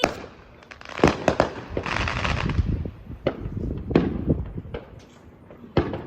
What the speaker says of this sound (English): We underestimated how powerful this firework was.